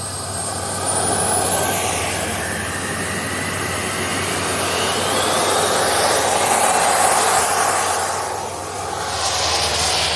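A mini jet bike's turbine engine runs steadily with a loud, broad whooshing roar and a rising high whine, driving the rear wheel on a stand; the sound holds continuous and close with slight swells.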